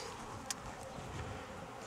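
Honey bees at an apiary hive in Jacksonville, Florida, in November, a steady faint buzzing drone throughout with no talk.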